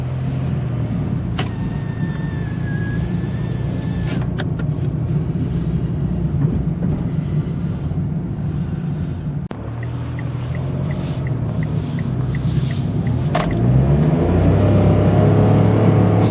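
A 2024 Mitsubishi Mirage driving in town, its small engine giving a steady low hum with road and tyre noise throughout, swelling louder near the end as it accelerates.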